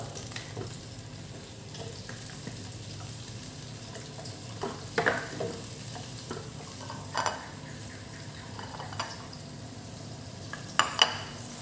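Pork tails stir-fried in a pan for a Thai dish of pork tails tossed with shrimp paste, a soft continuous sizzle broken by scattered clinks and scrapes of a utensil against the pan.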